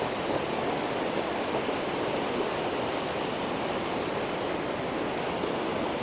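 A river current rushes near waterfalls with a loud, steady, unbroken roar of water heard up close and alone.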